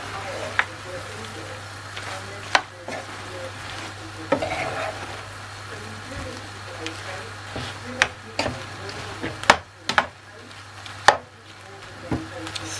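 A sweet chilli prawn mixture with honey is stirred in a pan: sharp spoon taps and scrapes land irregularly over a faint sizzle and a low steady hum.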